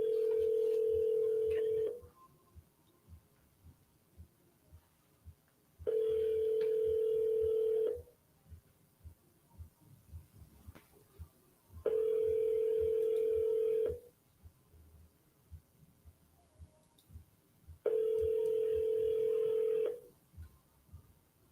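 A phone call's ringback tone sounds four times, each steady burst lasting about two seconds with roughly four seconds of quiet between, loud and close with no voices.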